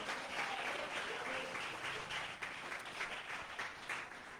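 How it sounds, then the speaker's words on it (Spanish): Church congregation applauding, a faint continuous wash of many hands clapping from a distance, with some voices mixed in. "¿Cuántos aplauden al nombre de Jesús?"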